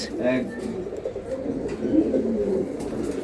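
Pigeons coo softly from a multi-compartment cage at a market stall, a low rolling murmur mixed with people talking nearby.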